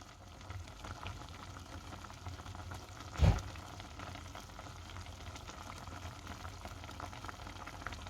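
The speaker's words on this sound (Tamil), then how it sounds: "இவங்க ப்ரோக்கோலி அவிய வச்சுட்டேன்" Broccoli boiling in a pot of water with a little turmeric, a faint steady bubbling simmer that goes on throughout, broken once by a short clunk partway through.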